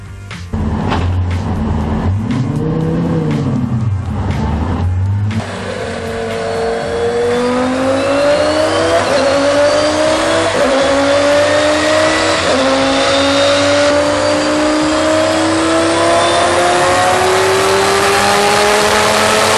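A Heffner twin-turbo Lamborghini Gallardo runs on a dyno: a loud engine blips and revs briefly, then climbs in one long, steady pull as the pitch rises, close and without talking.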